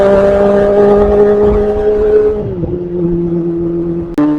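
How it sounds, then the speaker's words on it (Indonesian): A four-cylinder motorcycle fitted with an aftermarket long-pipe exhaust holds a smooth, fairly soft steady tone up close, then the pitch drops as the revs fall back, ending with a brief sharp blip. "kalau kalian pakai knalpot yang long pipe, saya rasa suaranya masih cukup nyaman ya"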